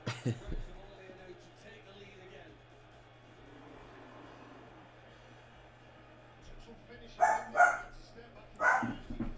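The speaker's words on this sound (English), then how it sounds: "You see what the dog's barking for." A dog barks a few times in the distance near the end, faint and muffled, after a quiet stretch with a low steady hum and a little talk early on.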